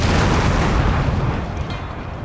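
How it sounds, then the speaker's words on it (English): Artillery fire in the video game Shogun 2 Total War comes as a dense, continuous rumble of booms that is loud and close at first and eases off slightly toward the end. "So my artillery is like just keeping up the fire on these units in here."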